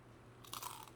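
A crisp bite into crunchy deep-fried crispy pata pork skin, a short quiet crackle followed by a few brittle chewing crunches, close and alone.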